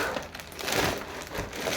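Close, crisp crinkling of a thin plastic protective bag unpacked from a Jackery Explorer 500 V2 power station box, rustling irregularly in short bursts for a couple of seconds with no talking.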